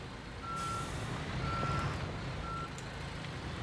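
A gravel-loaded truck reversing in a construction simulator game sounds three evenly spaced backup beeps over a steady low engine rumble, with a brief air-brake-like hiss early on.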